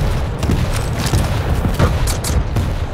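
Rocket explosions and weapon fire in the arena shooter Quake Champions, a dense run of booming blasts and impacts with broadband crackle, loud and close, with no talking.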